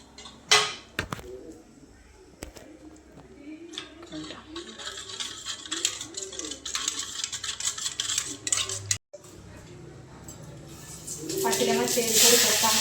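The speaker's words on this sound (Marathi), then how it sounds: "हळद टाकायची आणि बेसन व्यवस्थित मिक्स करून घ्यायचं" Besan is stirred into buttermilk with salt and turmeric for kadhi, a close run of wet scraping and whisking against a metal vessel with sharp clinks, while a voice talks over it.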